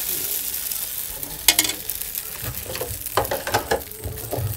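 Coriander and curry leaves sautéing in a pan for a white vegetable kuruma, a steady loud sizzle broken by spoon stirring and scraping, with no talking.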